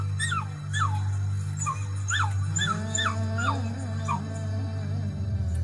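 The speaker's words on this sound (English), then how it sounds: "The wolf cubs are howling at us." Young canids labelled wolf cubs give a chorus of rising, wavering whimpers and yips that stretch into thin howls. The calls repeat over a steady low drone and come through close and clear.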